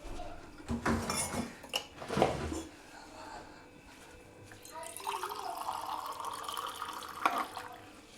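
Water splashes and pours into a pot of chicken sambar beside clinking cookware, the steady trickle continuing through the second half while someone talks nearby.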